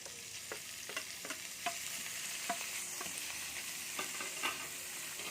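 Finely chopped chicken, used in place of ground meat, fries in a pan with a soft continuous sizzle, punctuated by regular clicks and scrapes of a spatula stirring it.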